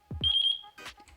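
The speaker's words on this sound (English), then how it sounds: "the remote controller will start making a beeping noise" A drone remote controller gives a short electronic beep, chirping once at a steady high pitch, followed by a brief faint rustle.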